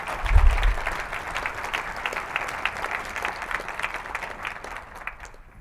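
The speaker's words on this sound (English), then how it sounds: "Please welcome Anthony Shaw with his talk, Write Faster Python with Common Performance Anti-Patterns. Big applause, please." An audience at a Python programming conference applauds to welcome a speaker: steady, dense clapping from a large crowd that fades slightly toward the end.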